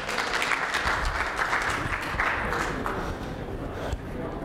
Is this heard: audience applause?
yes